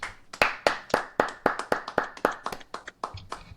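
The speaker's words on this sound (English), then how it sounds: "Let's give him a round of applause." A round of hand clapping on a sports talk show for a baseball team's bullpen after a sweep: about a dozen sharp, close claps in a quick, slightly uneven rhythm, sounding like a small group or a single person, with no talk over them.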